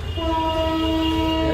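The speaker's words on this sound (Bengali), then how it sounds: "ইঞ্জিন ঘোরানো হয় এই জায়গায়" A train engine sits at a railway engine-turning facility while a loud, sustained horn tone sounds close by over a low mechanical rumble, with no talking.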